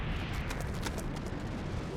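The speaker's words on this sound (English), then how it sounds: "Loud explosions, loud." Loud explosions boom in the video game Splatoon 3, several quick blasts in a two-second burst over a dense rumbling background.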